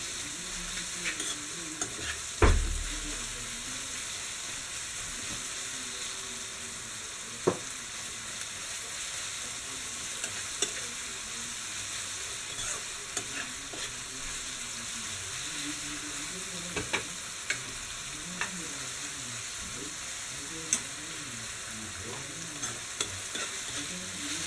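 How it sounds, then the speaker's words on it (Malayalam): Onions sauté with a pinch of salt in a pan for a Kerala-style pepper chicken roast, giving a continuous close sizzle with occasional scraping stirs and light clinks from a spoon against the pan. "സവാള പെട്ടെന്ന് വഴണ്ട് വരുന്നതിനായിട്ട് നമുക്കൊരു ഇത്തിരി ഉപ്പ് ആഡ് ചെയ്യാം"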